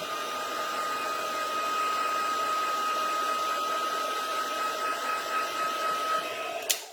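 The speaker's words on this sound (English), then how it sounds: "I'm just going to hit that quickly with the heat tool to make sure that it's dry." A craft heat tool blows hot air onto freshly inked paper, a steady, close whirring hum with a high whine that runs without a break for several seconds.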